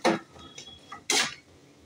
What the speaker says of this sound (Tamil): தொக்கு கறிவேப்பிலை தொக்கை போட்டு நல்லா கிளறி கொடுக்கணும்